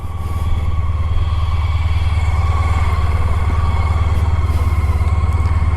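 Motorcycle riding along a country road near Babia Góra in Poland, its engine droning steadily and loudly with a low rumbling throb from start to finish, no talking.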